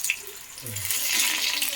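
Water runs and splashes steadily for a couple of seconds, a continuous close-up trickling wash with no talking.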